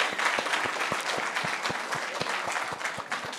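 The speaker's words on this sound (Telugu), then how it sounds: "సో ప్లీజ్ అందరు ఒక్కసారి వీళ్ళందరూ క్లాప్స్ అండి." An audience at a film success event applauds the movie team. Dense, steady clapping fills the whole stretch at an even level, with individual claps standing out close by.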